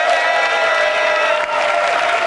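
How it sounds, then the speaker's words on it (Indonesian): A debate audience breaks into applause, a loud, dense, continuous roar of clapping from a large crowd with a hint of cheering, filling the whole moment without a pause. "Kalau ingin tepuk tangan, saya ajak sekarang semua untuk tepuk tangan"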